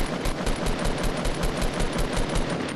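Rapid automatic gunfire from a multiplayer shooter game, loud sustained bursts of close shots rattling in a fast, even rhythm with no talk over them.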